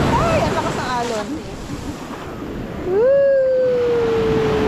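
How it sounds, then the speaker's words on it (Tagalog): Strong ocean waves washing in at a beach in Sulu, a loud, rushing surf wash close by with wind buffeting, while voices exclaim and one rises into a long, sliding cry. "Ay, ang lakas ng alon."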